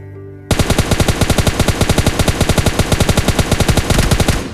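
Rapid automatic gunfire in PUBG Mobile Lite, a loud, fast, steady stream of shots starting after a brief quiet moment and continuing without pause to the end.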